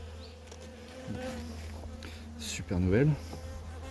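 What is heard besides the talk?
honey bees at a hive frame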